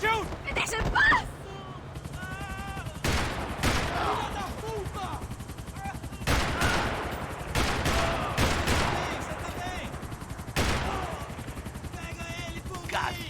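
Gunfire rings out in the Max Payne 3 video game, with repeated loud bursts of shots over continuous action noise and shouted voices.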